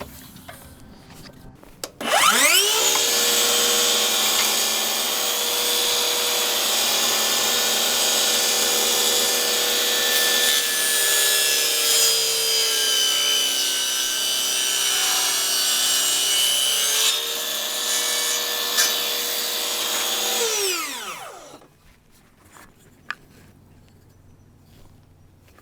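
A Ryobi 18V cordless table saw spins up, then bites through wood in a long, loud, continuous cut, its blade whine holding steady for about twenty seconds before winding down.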